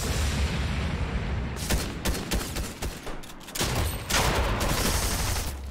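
Shotgun gunfire in a Fortnite match: a rapid, loud volley of blasts and cracking shots in dense clusters, pausing briefly before another heavy burst, with no one talking.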